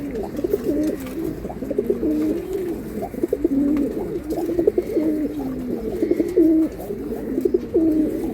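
Silver pigeons cooing in a loft, a steady run of low throaty coos repeating close by, overlapping one another with no talk.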